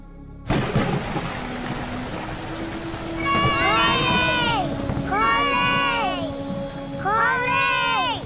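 A rain sound effect for a toddlers' stage play at a school end-of-year celebration: a steady loud rush of rain and rumble fills the stage, overlaid by bright melodic chime or bird-like chirps swelling in three waves.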